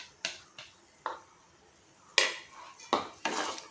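A spoon clinks and scrapes against a pan while jhinge jhal, a ridge gourd dish with green chilli paste and mustard, is mixed: a handful of sharp, separate metallic knocks, close and moderately loud.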